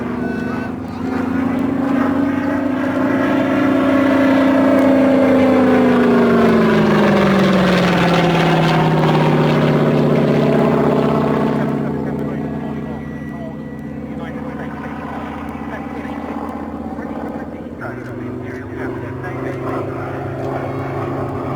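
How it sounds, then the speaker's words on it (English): A Curtiss P-36 Hawk fighter aircraft's engine runs as a loud, sustained drone whose pitch swells and then sinks, easing off in the second half, with voices talking over it. "Nice to hear the engine too."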